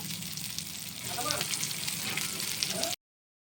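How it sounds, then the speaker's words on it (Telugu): Pieces of fish frying in hot oil, a steady close sizzle with soft crackles running for about three seconds before cutting off abruptly. "ఇప్పుడు కలిపి పెట్టుకున్న ఫిష్ పీసెస్ని ఒక్కొక్కటి వేసుకొని వేయించుకుందాం"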